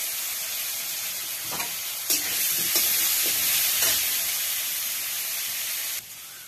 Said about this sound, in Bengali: এখন দিয়ে দেব এই যে পেঁয়াজ কুচিগুলো, পেঁয়াজ কুচি, আর এই যে চেরা কাঁচা লঙ্কা কুচি।